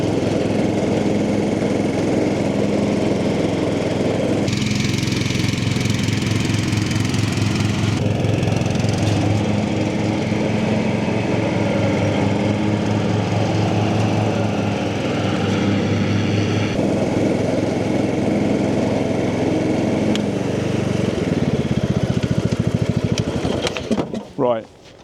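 A Cub Cadet ride-on lawn mower runs with its blades engaged, a loud, steady engine drone with a slight shift in pitch partway through, before cutting out abruptly at the end.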